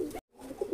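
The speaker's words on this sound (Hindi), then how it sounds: "ये पेड़ टोक वाले जालदार कबूतरों का है" Tok-wale jaldar pigeons, a pair offered for sale in Bhopal, give soft low coos close by, broken by a brief silent gap before the cooing resumes.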